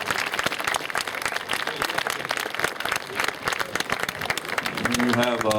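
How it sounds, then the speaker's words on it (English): An outdoor crowd applauds volunteers at a drunk-driving mock crash event, with steady scattered clapping that runs under voices and background noise throughout. "Let's give all these folks out here a round of applause for this today."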